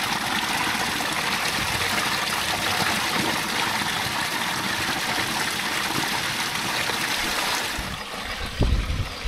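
Spring water pours and gurgles in a steady, dense rush beside a river during a kayak trip while water bottles are refilled, close and loud, ending with a few brief knocks and splashes.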